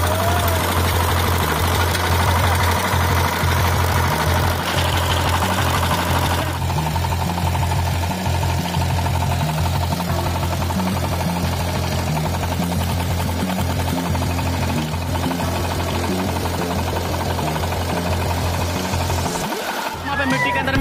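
Power tiller engine chugging loudly with a steady low rhythmic knock while stuck deep in mud, running continuously and close, with a brief rough surge near the end.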